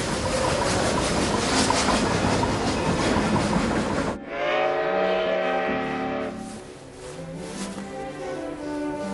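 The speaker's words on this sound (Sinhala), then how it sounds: "රුමෝයි කෝච්චිය දැන් පැමිණෙන." A train pulls into a station, a dense rolling rumble with rattling cars that drops suddenly partway through, leaving quieter mechanical tones and hiss, with a steady noisy backdrop throughout.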